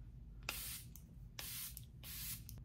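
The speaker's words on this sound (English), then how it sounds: "I don't have a drugstore setting spray, but I'm just going to use my Charlotte Tilbury one." Charlotte Tilbury makeup setting spray misted from a pump bottle: three separate close, airy hissing sprays, each about half a second long, evenly spaced over a low steady background hum.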